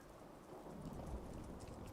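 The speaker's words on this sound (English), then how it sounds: "To be fair, it is raining." Steady rain hisses with a low thunder rumble in the Fallout 4 video game. It is faint, continuous and even, with no talking.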